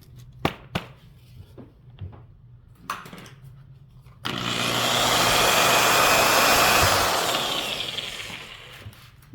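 An Alloyman rotary buffer polisher with a high-quality foam pad spins up after a few light taps and handling noises, a loud steady whirring hum that swells and then slowly fades near the end.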